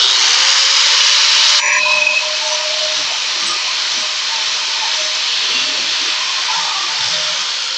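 Flap disc grinding a burr off a forged piece at a forge, giving a loud, harsh, high hiss that starts abruptly, eases slightly after about two seconds, then runs on steadily.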